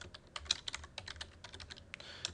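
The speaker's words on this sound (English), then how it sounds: "So I'm just typing home, and then about, and then products" Rapid, irregular clicking of keys comes from a computer keyboard as words are typed into a menu, with close, crisp keystrokes over a faint low background hum and no speech.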